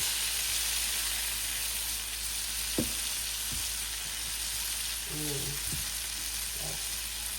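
Butter melting in a pan with coconut milk over a stove flame, a steady close sizzle and hiss with a few soft clinks of utensils against the pan.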